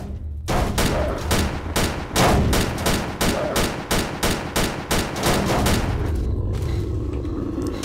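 Loud, close gunfire from a gun in STALKER: Call of Pripyat, fast repeated shots in a steady automatic stream lasting several seconds, then a rumbling background as the firing stops.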